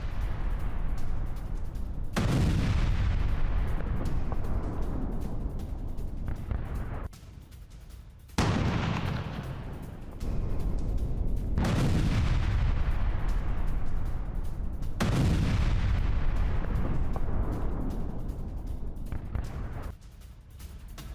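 Massive booming blasts erupt three times as a building is destroyed in Gaza, each a loud, rumbling explosion that slowly decays into crackling debris and rolling echoes.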